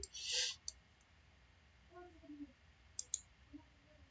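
A computer mouse clicks a few times, sharp isolated ticks near the start and again toward the end, over quiet background with faint scattered sounds.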